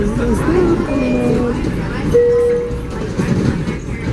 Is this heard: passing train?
yes